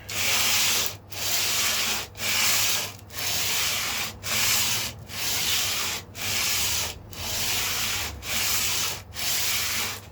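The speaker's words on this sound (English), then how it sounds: "now we can just start sanding this down," Rhythmic back-and-forth sanding of wood with sandpaper on a late-'60s-style Stratocaster guitar build, about ten even strokes with brief gaps, close and steady.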